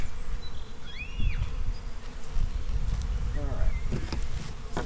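Package honey bees hum and buzz steadily around fresh wax-dipped foundation frames, a dense close drone with individual bees flying past.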